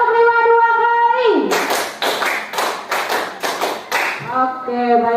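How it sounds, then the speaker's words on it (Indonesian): Classroom students clap a rhythm in a quick series of sharp, loud claps after a sung or spoken chant, with voices before and after the claps. "Tepuk 5 2 kali."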